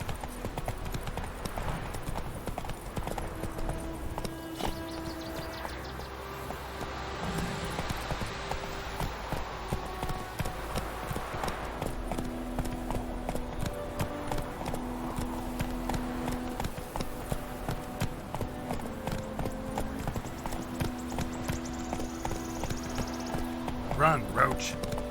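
Hooves of the horse Roach gallop in a steady clip-clop rhythm throughout in The Witcher 3 game, with in-game characters talking over it and light music underneath.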